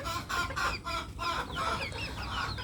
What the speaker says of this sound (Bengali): মুরগিরা অনেক খুশি, কারণ ওরা অনেক সুন্দর করে ঘোরাফেরা করছে।